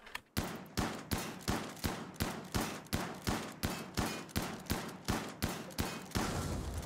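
Gunfire in the video game RimWorld: a rapid, evenly spaced string of about fifteen loud shots, one roughly every half second, each cracking and decaying before the next, then a noisy tail.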